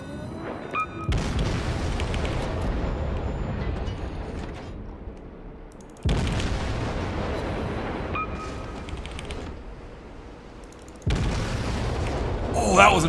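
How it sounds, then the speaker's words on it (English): Explosions in World of Warships, with German cruisers and an Erie-class ship in battle, come as three sustained booming bursts of roughly five seconds each, loud and broad, separated by abrupt cuts. "Oh, that was a nice explosion."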